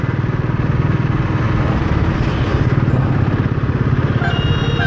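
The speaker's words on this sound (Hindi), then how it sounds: "सुबह सुबह जो बाइक चलाने में थोड़ा मज़ा आता है," Motorcycle being ridden on a morning road trip from Lakhora to Baihata: a loud, close engine drone with a steady pulsing throb and wind rush, running continuously throughout.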